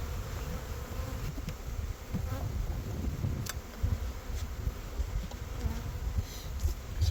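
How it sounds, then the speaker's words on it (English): Dense, steady buzzing of many honey bees swarming around frames being shaken at an open hive in spring, continuous and close with no voices. "I got good amount of bees."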